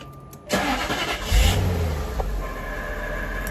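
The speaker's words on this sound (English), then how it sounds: "I'm pleased that the car started" A Jaguar XK8 engine cranks and catches after a short quiet lead-in, the close car motor surging briefly before settling into a steady idle, with no talking.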